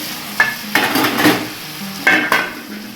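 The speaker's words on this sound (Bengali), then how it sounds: "এবার ঢাকনাটা খুলে একটু টমেটোটা দিয়ে দেবো" Chicken kosha sizzles and fries in a pan as tomato goes in, with a few close metallic scrapes and clinks of a spoon stirring against the pan over a steady hiss.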